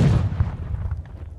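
Gunfire in the tactical shooter game Ground Branch, a loud booming shot at the start followed by a fading rumbling echo, with no voices.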